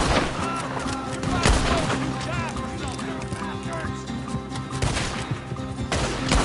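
Gunfire cracks repeatedly through a busy Western shootout, sharp shots scattered over a dense bed of horses, music and shouting voices.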